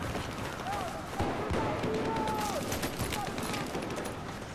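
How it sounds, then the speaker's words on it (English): Distant sniper rifle shots in Battlefield 4 combat, a few sharp cracks standing out over a dense, steady bed of battlefield noise and gunfire. "We got a sniper who's way out of bounds sniping at us."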